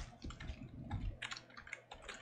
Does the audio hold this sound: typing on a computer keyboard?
yes